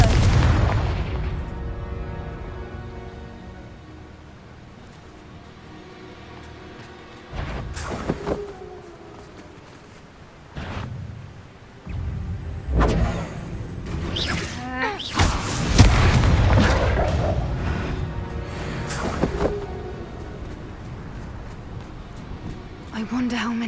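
A Confringo spell detonates in Hogwarts Legacy with loud booming blasts and rumbling debris, several bursts clustered mid-scene amid combat noise, with voices talking before and between the explosions.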